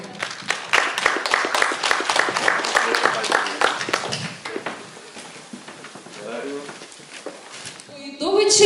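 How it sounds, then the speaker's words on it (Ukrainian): An audience claps at a formal send-off ceremony for young conscripts as one receives a gift. A dense burst of applause lasts about four seconds, then thins out while voices carry on over it. "Поаплодуємо йому."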